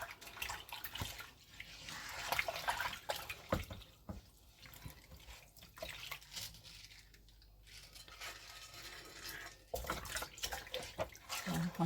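A pan being washed by hand with a small silicone sponge in warm soapy water, giving gentle splashing, sloshing and light scrubbing sounds that rise and fall throughout, close up, with no talking.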